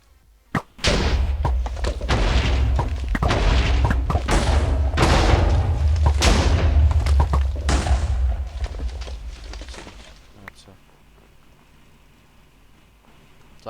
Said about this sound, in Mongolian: Дэлбэлт юм байна.